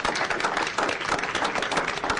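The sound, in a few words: audience applause at county board meeting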